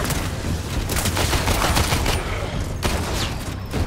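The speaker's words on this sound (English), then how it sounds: "let's do a little slide shooting" Rapid sustained gunfire from the sci-fi shooter game Warframe, a dense, loud burst of continuous automatic shots with crackling impacts and no pauses.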